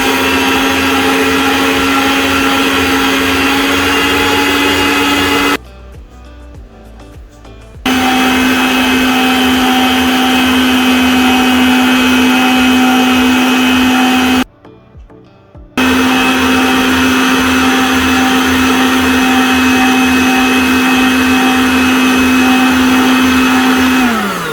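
An electric mixer whips 600 ml of double cream with four tablespoons of sugar for a whipped cream frosting: a loud, steady motor whine that runs continuously, cut off twice by brief pauses, then picks up again.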